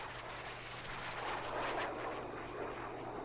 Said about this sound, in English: There's enemy jet flying over.